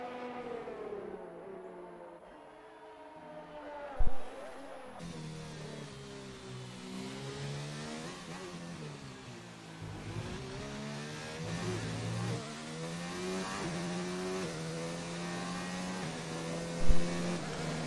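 A McLaren Formula 1 car engine in a racing video game screams through gear changes during qualifying, rising and falling pitch sweeps at moderate level with a couple of brief thumps, no voices.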